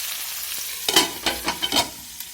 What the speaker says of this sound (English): I'll quickly stir it and I'll cover it to make the process faster.